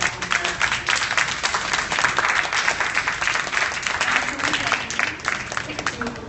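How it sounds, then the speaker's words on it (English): Applause from the audience closes an artist's talk at MoMA about an inflatable homeless shelter project, with sustained crowd clapping mixed with some voices. "a big round of applause for Michael"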